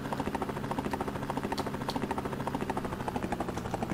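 Helicopter in the Commodore Amiga video game Rescue: a steady, rapid rotor chop with a pulsing, looping rhythm, loud and continuous throughout.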